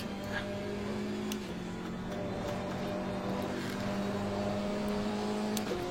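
A race car engine in a racing video game holds a steady, moderately loud drone, with a pitch that shifts slightly as the car changes speed.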